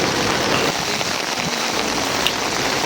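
Heavy monsoon-style rain pours down in a constant, dense roar of drops hitting the ground, loud and close, unbroken for the whole stretch, with no voices.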